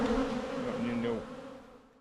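Angry honey bees swarm around an opened, aggressive hive, a dense droning buzz that stays loud and steady, then thins out toward the end.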